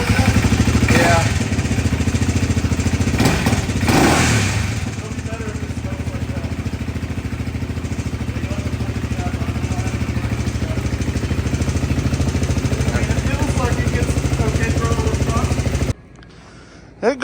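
A Honda 400EX engine swapped into a Polaris RZR 170 runs loud and close with a rough, throbbing note and a couple of throttle blips early on, voices talking over it before it cuts off abruptly.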